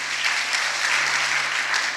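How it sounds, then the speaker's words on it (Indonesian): Loud, dense applause fills a church during a youth service, a continuous wall of clapping from a congregation that stays steady throughout, with a faint low hum beneath and no speech. "Sekali lagi tepuk tangan buat Tuhan Yesus."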